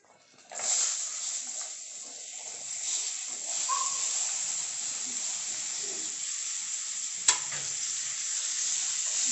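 Potato pieces fry with chili powder in a pan, giving a continuous bright sizzling hiss, with soft stirring scrapes and one sharp clank of the utensil partway through.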